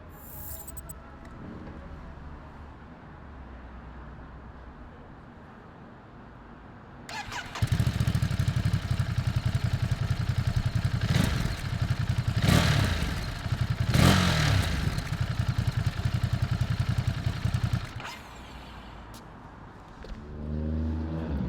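After a quiet idle, a 2023 Ducati Monster SP engine roars to life and rumbles loudly, revving sharply a few times before dropping back to a lower idle.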